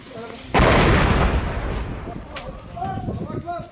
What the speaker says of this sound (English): A mortar round lands just behind their building.